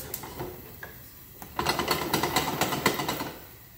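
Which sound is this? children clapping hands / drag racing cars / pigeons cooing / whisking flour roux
whisking flour roux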